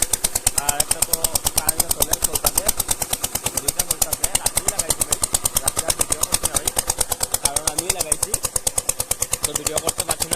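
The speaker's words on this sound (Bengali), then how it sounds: "এই মেশিন থেকে সাউন্ড" Engine of a pump machine draining a village fish pond, a loud steady rapid thumping chug that runs without pause, close by, with someone talking over it.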